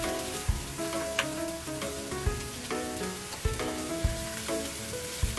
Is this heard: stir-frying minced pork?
yes